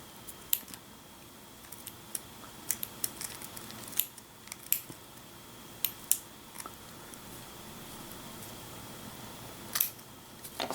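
Hobby clippers snip excess base material off an Ork Kommando miniature, producing several sharp, close clicks scattered irregularly over a quiet background with no talk.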